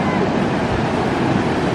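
Steady broadband roar of ocean surf on a beach where baby sea turtles are being released, a constant wash of waves with wind buffeting the microphone and no clear breaks.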